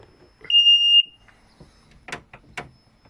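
Ignition switched on for a Sea-Doo 215 RXT jet ski gives one steady electronic beep lasting about half a second. Faint clicks and handling noises follow in a quiet setting.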